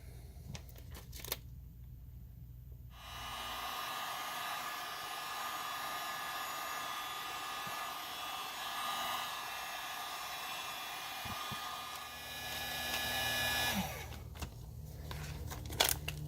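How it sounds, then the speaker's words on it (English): A heat gun blows a steady, loud whooshing roar for about ten seconds while warming window tint on a 2000 Jeep Cherokee XJ, with brief handling noises before it starts and after it stops. "I'm gonna grab my heat gun."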